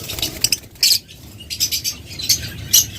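Yellow-collared lovebirds in a breeder's cage give short, bright chirps in scattered bursts over a low background hum, close by and fairly loud.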